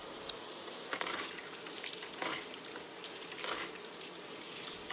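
Steady crackling sizzle of aubergine pieces deep frying in hot oil, with occasional louder pops and bursts, continuous throughout with no talking.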